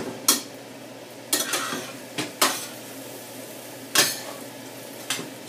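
Garlic croutons are tossed in a pan with olive oil and butter. Several sharp scraping and clattering strokes stand out clearly above a low sizzle, with pauses between them.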